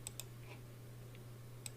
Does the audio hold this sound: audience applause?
no